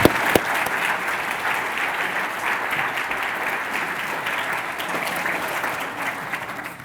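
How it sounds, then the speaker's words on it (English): An audience in a lecture hall applauds a Bakerian Prize and Lecture winner, a sustained, moderately loud wash of clapping that starts with a sharp onset and stays even to the end. "you can give them a round of applause for that"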